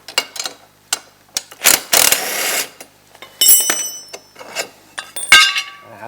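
Clinks, ratchet clicks and metallic knocks as tools work on a ski bracket of a Ski-Doo Rev 800 Mod snowmobile during an SLP Mohawk ski install, in irregular close-up bursts.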